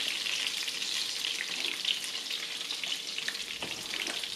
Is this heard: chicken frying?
yes